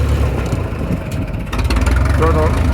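An old tractor engine running on gasoline after being switched over from diesel, a steady loud idling rumble close by, with someone talking over it.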